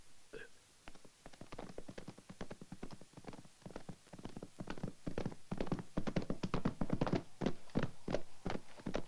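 Horse hooves clip-clop in a steady, fairly close rhythm, the hoofbeats growing louder and denser toward the end, with no talk over them.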